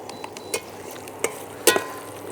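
Onions frying golden in a pan for crab gravy: a faint, steady sizzle under a few sharp stirring scrapes and clinks of a utensil against the pan, with no talk.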